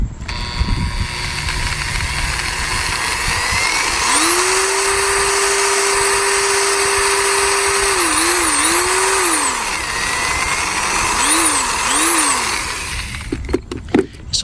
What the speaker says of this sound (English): this is my 1/3 horsepower power drill